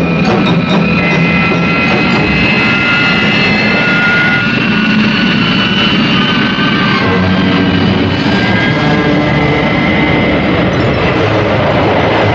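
Loud, steady drone of airplane engines running continuously throughout, a dense roar with a faint tonal whine and no talk.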